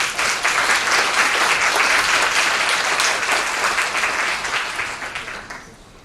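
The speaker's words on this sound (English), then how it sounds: "Please give a round of applause for him." Loud, sustained clapping from a large audience at a student forum on gender inequality, holding steady, then gradually fading out toward the end.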